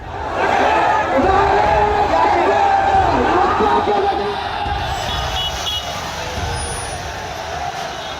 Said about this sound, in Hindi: जहां बैरिकेडिंग तोड़कर भीड़ आगे निकल जाना चाहती है